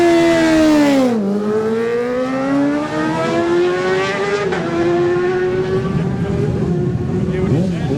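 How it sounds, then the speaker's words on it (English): A racing motorcycle at the start of the Manx Grand Prix senior race revs hard and pulls away, its high engine whine shifting pitch through gears, loud and close, with a commentator talking over it. "Simon Fulton, number 4, makes a lone departure"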